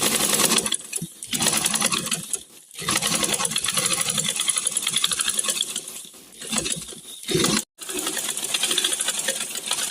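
A sewing machine stitches a cushion pillow, its needle running in a steady fast rattling patter that continues almost unbroken for several seconds, with a few brief pauses as the fabric is turned.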